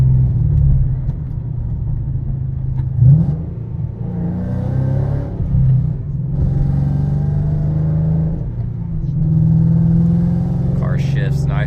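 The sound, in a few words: 2012 Ford Mustang Shelby GT500 engine while driving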